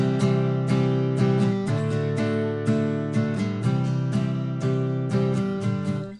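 Close acoustic guitar strums a lively chord rhythm, sharp down and up strokes repeating evenly for several seconds before ringing out.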